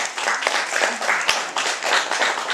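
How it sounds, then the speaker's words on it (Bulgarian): Theatre audience applauding the actors at a curtain call: a dense, continuous wash of clapping, loud and full, unbroken from start to finish. "аплодисменти за нашите актьори"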